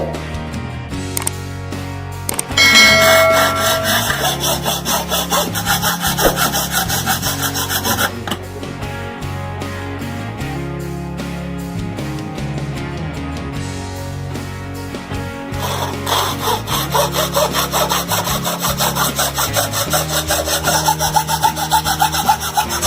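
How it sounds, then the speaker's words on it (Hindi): A hand saw cuts a copper-clad PCB board in steady back-and-forth strokes, a loud rasping rhythm that pauses briefly partway before resuming, with no talking. "जब इस तरह से आरी से काटते हैं तो कटिंग ऊपर आ जाती है।"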